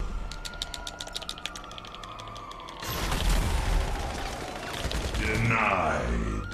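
Rapid gunfire rings out in GTA Online, a burst of sharp shots and rattling automatic fire following quick clicking, loud and close, with someone talking over parts of it.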